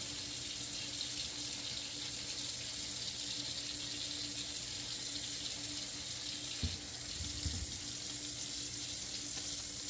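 A tap runs steadily into a sink while apples are washed under it, a constant hissing stream with a brief knock or clatter partway through.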